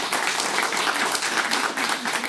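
At an association's general assembly, an audience applauds the volunteers with steady, dense clapping from many hands, continuous and fairly loud throughout.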